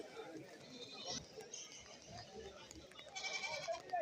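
Goats bleat now and then at a rainy goat market in Kerala as they are loaded onto a vehicle, against a noisy background of people talking and moving about outdoors.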